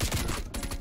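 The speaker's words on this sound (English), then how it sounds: "Well, he just got shotgunned." Shotgun blasts from Call of Duty, in a match using a KSP 45 class setup: a couple of sharp, loud bursts in quick succession amid dense game gunfire, with no talking.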